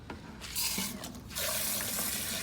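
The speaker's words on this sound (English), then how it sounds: "So I'll wash the excess that's in the cup." Tap water runs and splashes as a measuring cup is rinsed out into a 5-gallon bucket of dragon fruit fertilizer mix, a steady close pour with no talking.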